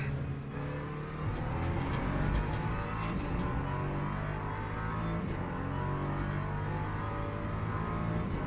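LMP2 prototype race cars in a racing video game, a dense, loud sustained engine roar with layered whining revs as several cars stream past, no speech.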